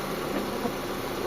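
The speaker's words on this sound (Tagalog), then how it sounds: "Ayan smooth na yung makina nila bossing." A repaired Mitsubishi Lancer engine idles smoothly and steadily, a constant low hum with broadband mechanical noise and no revving or other sounds.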